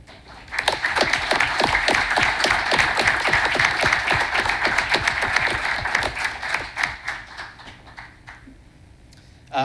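A town council meeting audience gives sustained applause for emergency medical service members, many hands clapping steadily for about seven seconds before tapering off to a few scattered claps.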